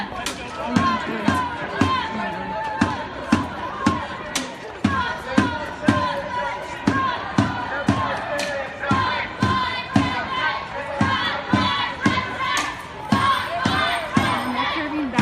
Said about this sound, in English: Looks like a younger crowd